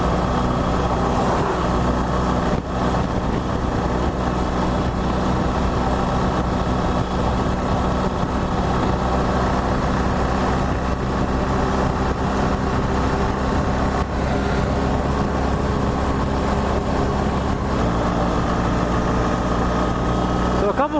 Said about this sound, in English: Going up this hill in third, you can really feel that low end grunt kicking in.